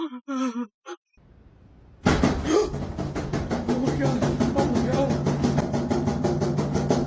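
A door bangs repeatedly on its hinges in a rapid, loud, rhythmic pounding that begins abruptly after a startled voice and a brief hush, continuing relentlessly.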